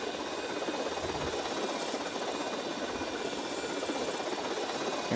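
Remote-control drone helicopter in GTA Vice City gives off a continuous whirring buzz over broadband game noise, steady and fairly loud for the whole stretch, with no speech.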